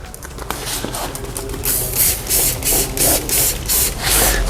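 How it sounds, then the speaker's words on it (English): A handheld car cleaner spray bottle, its nozzle opened, sprays in a series of repeated hissing bursts, roughly one per second, with no talking. "This sprays away very, very, very nicely."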